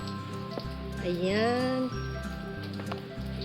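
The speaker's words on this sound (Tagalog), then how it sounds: "Lakas na ulan guys." Heavy rain pours steadily on a home garden of potted basil, mint and banana plants, a constant dense wash with a short spoken word and a brief tonal sweep partway through.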